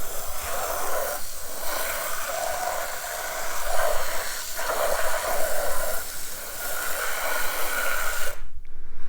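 Rubber car floor mats rinsed outdoors with a water spray, a steady broad hissing rush of water that swells and dips for several seconds, then cuts off abruptly near the end.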